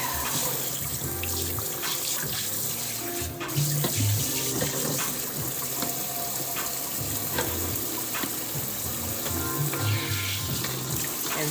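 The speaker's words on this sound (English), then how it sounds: "we need the bin later, so that's why I'm rinsing it" A dye bin rinsed under a running tap, steady loud rushing water with shifting splashes as the bin is moved around beneath the stream.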